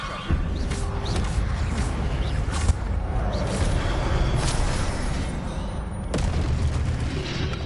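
Spellcasting combat in Hogwarts Legacy with the Incendio fire spell, a dense, continuous rumble of booming blasts and crackling bursts, with sharp impacts near the start and around six seconds.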